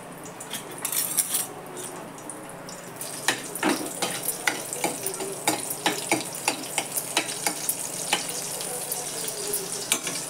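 Garlic fries in oil in a pan with onion greens already cooking, giving a soft continuous sizzle under a run of sharp spoon clinks and stirring taps, fairly quiet overall.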